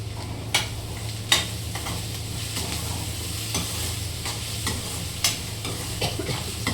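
Chopped green chili fries with browned peanuts in a pan: a steady close sizzle and stirring hiss with a few sharp spatula taps scattered through, no voices.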